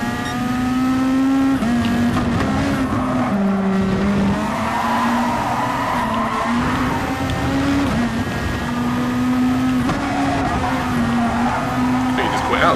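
Race cars in the GT Sport video game roar continuously with a steady, rising and falling engine drone, with tire squeal mixed in, while someone talks over the top.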